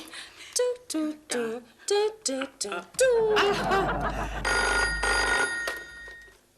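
A telephone rings loudly indoors in a Hindi TV comedy scene, its bell tone sustained for a few seconds after a stretch of dialogue, with voices and laughter around it.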